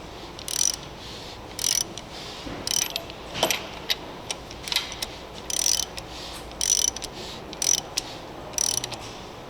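A Nissan Almera engine with its pistons fitted is turned over by hand, giving a series of quiet, irregular ratcheting clicks and short mechanical whirs, about a dozen brief bursts against a faint background.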